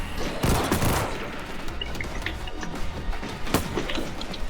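Rapid bursts of gunfire crackle almost nonstop through a World War Z zombie fight, with sharp loud shots around the first second and again past three and a half seconds.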